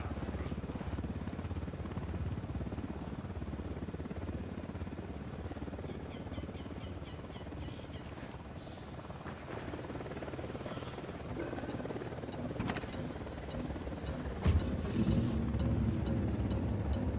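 Helicopter in the video game Ghost Recon Wildlands coming in to land, a steady loud rotor and engine roar running continuously throughout, with a brief thump and rise in intensity near the end.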